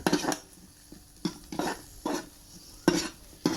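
Stir-frying in a pan before pork is added for a Japanese-style black-broth shabu: repeated scraping and clinking strokes of a utensil against the pan in irregular bursts over a faint sizzle, no talk.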